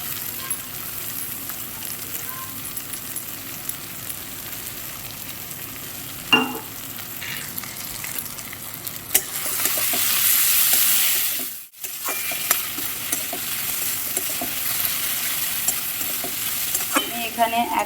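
A whole garlic bulb fries in hot oil in a pan, giving a steady close sizzle with occasional stirring scrapes and a brief louder hiss partway through.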